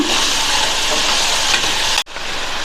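Potato chunks frying in oil on a medium flame for a potato gravy, a steady close sizzle that cuts out abruptly near the end, then resumes.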